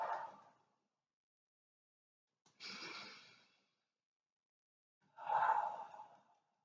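Three separate breaths during an exercise routine, in and out at slow, evenly spaced intervals, soft and close with quiet gaps between them and no talking.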